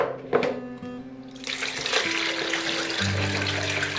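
Brine for pickling cucumbers is poured off into a sink, a sudden splashing gush that follows a few clinks and then settles into a steady running rush.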